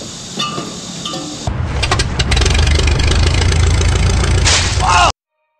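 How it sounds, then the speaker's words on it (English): A small engine being test-fired after a check for spark, compression and fuel cranks briefly, then catches and runs loudly and steadily for several seconds before cutting off abruptly. "all you need to make an engine fire is spark, compression, and fuel."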